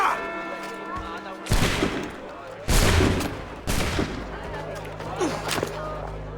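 Musket volleys crack out in Assassin's Creed III, three or four loud ragged bursts of massed gunfire spaced about a second apart, with a voice shouting amid the shots.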